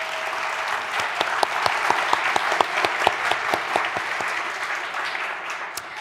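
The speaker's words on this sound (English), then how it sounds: "Please give our panelists a round of applause." An audience applauds panelists at a panel event on cold case detectives and DNA technology: dense, sustained clapping with many crisp individual claps, steady and fairly close for several seconds.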